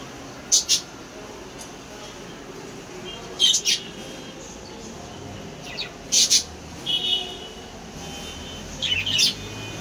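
Short, high chirps from two pet birds arrive in a few separate bursts a couple of seconds apart, over a quiet, low background hum.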